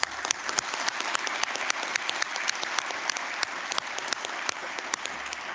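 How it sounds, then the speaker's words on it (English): Audience at a City Colleges graduation ceremony gives graduates a round of applause, steady crowded clapping with crisp individual claps standing out, continuous and fairly loud throughout. "Another round of applause."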